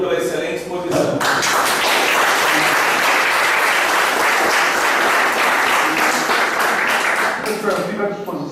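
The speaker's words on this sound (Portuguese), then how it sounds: "Só nos resta então agradecê-lo mais uma vez e aplaudi-lo pela excelente exposição" A lecture audience breaks into loud, sustained applause, dense many-handed clapping that fills the room for several seconds, with a voice briefly heard at the start before it swells.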